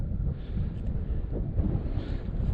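Chilly wind buffets a microphone on the summit of Moruisg, a Scottish Munro hillwalking route, as a constant low rumbling roar with no talk.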